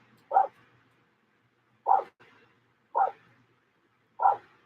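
A dog barks four times in sharp, separate bursts spaced a second or so apart, each short and fairly loud against a quiet indoor background.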